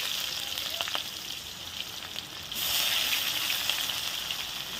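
Mutton fat sizzles and spits in a hot pan, a steady close hiss with a few sharp pops, growing louder and denser halfway through, no talking.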